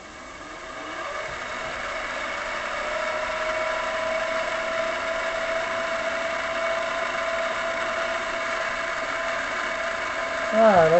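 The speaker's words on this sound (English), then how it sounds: "I'm going to face the end of this thing off so it's square" A metal lathe faces the end of a workpiece with the carriage locked, giving a steady motor whine and cutting hum that holds even throughout, close and fairly loud, with no talk over it.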